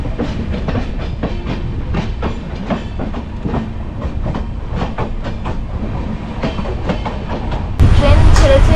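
The Padatik Express passenger train rolls along from Alipurduar toward Kolkata, heard from inside with a loud, rhythmic clickety-clack of wheels over rail joints and a constant rumble, growing louder near the end.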